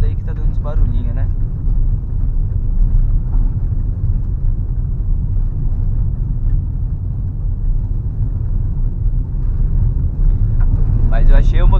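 Fiat Argo driving on a dirt road in third gear, a low steady engine drone with rumbling road and cabin noise, continuous and fairly loud from inside the car, with brief faint clicks and rattles near the start and end.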